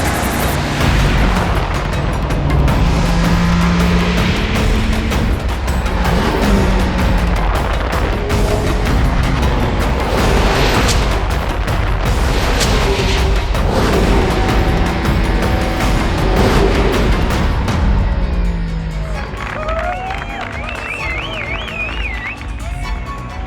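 A Mercedes-AMG ONE hypercar lapping the Nürburgring, its engine roaring loudly and rising and falling through gear changes for most of the stretch, then fading toward the end.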